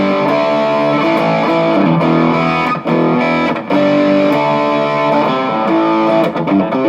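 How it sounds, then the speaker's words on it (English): Heavily distorted electric guitar through the distortion section of an Analogman Prince of Tone pedal plays loud, dense chords continuously, with a couple of short breaks between strummed phrases. "The distortion sounds great on this."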